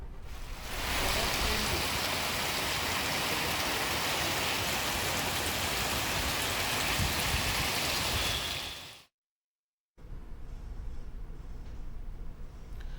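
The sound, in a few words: heavy rain falling and rainwater flowing on city roads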